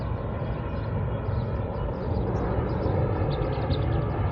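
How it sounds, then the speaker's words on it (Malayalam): An Emirates airliner passing close overhead near Mushrif Park, a steady low jet-engine roar sustained throughout at moderate volume. "തൊട്ടടുത്തോടെ ഒരു പ്ലെയിൻ പോകുന്നുണ്ടോ?"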